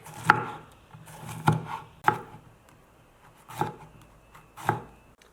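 Knife chopping a green pepper into slices on a cutting board, giving five sharp, distinct knocks at uneven intervals, close and clear, with no talk.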